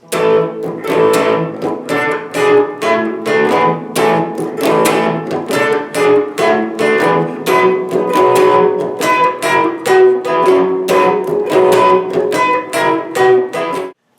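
An electric guitar plays the Jack Straw melody by the Grateful Dead, a run of plucked notes with supporting notes, played clearly and alone at close range.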